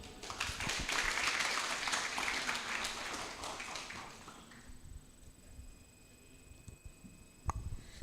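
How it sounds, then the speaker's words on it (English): Audience applause at a food engineering lecture session as the moderator, Mr. Malik, is introduced: dense, steady clapping for about four seconds that thins and fades into quiet room tone, with a faint click near the end. "Please give applause to Mr."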